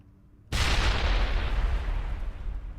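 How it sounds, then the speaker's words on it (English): A grenade blast in Mass Effect 1 Legendary Edition bursts in suddenly after a quiet moment, a loud, close boom whose rumbling roar stays dense and sustained for the rest of the clip. "I threw a grenade at his face."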